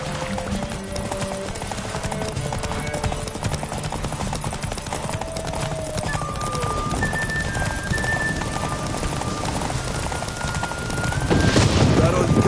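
Horses gallop in a race in The Witcher 3, a continuous drumming of hooves under shouting voices and game music, building slightly louder toward the end.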